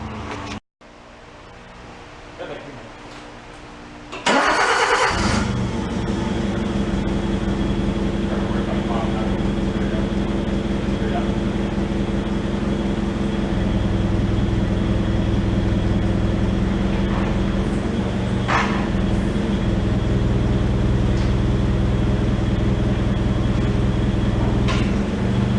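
Truck engine idling and then rumbling steadily at close range while an antique band saw is hoisted off a trailer, a continuous low drone after a sharp start around five seconds, with no talk.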